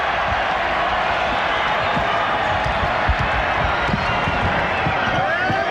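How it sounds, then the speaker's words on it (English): Arena crowd at the 1993 NBA All-Star Game in Utah, reacting to a missed shot: a loud, steady roar of many voices fills the whole stretch with constant murmur and cheering, and no single voice stands out. "Jordan way short, and that pleases the Utah crowd."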